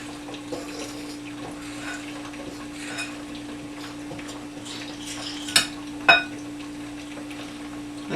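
Drop biscuit dough mixed with heavy cream is stirred in a bowl, making soft, steady wet scraping and squelching, broken by two sharp clinks of the utensil against the bowl near the end.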